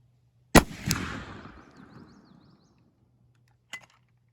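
One loud close shot from a Civil War Gallager cavalry carbine, a sharp crack with a long rolling echo that fades over two seconds, then a faint distant metallic tick.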